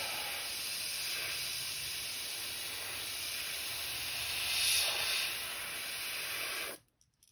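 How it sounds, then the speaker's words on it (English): An airbrush sprays paint onto a custom crankbait fishing lure with a continuous close, steady hiss that swells slightly near the end, then cuts off abruptly to silence. "Just out of my airbrush."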